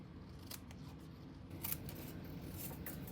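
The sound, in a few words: scissors trimming a paper card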